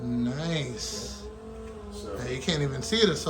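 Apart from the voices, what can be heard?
None of the usual background noises is heard.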